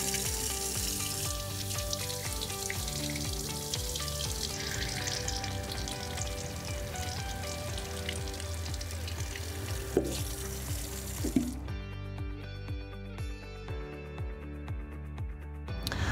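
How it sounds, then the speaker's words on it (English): Running water rinses through the drain and nasal dock of a Naväge nasal care device, a steady close hiss and trickle over soft background music, with a couple of small clicks near the end. "what'll happen is water will go through the drain, through the nasal dock, and then down out the bottom of the mechanical module"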